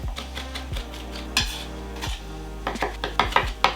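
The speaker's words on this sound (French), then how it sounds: "Ce mélange, on la met sur la planche, on égalise et là, on hache le tout assez petit." A knife chops a spinach mixture finely on a cutting board for stuffed pasta shells, giving a run of close, loud knocks and scrapes that quicken into rapid chopping near the end, with no voice.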